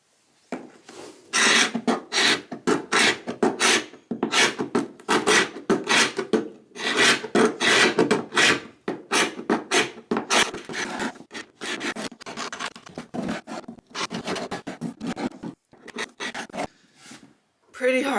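Hand scraping a wood floor with a scraper, heard as dense rasping strokes that come fast and rhythmically, close and loud, with short pauses between bursts.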